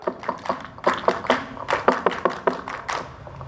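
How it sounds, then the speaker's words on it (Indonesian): Rhythmic group clapping of the Indonesian scout chant at a ceremony, a patterned sequence of sharp claps in short bursts and pauses, moderately near with no talk over it. "Tepuk pramuka"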